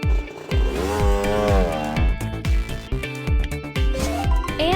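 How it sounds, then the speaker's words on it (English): Cartoon sound effect of a motocross bike engine: close, loud revving bursts with rising and falling whines, choppy rhythmic pulses continuing throughout without pause. "Motocross bike."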